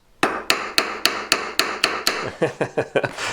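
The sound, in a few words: hammer tapping jewellery on a stick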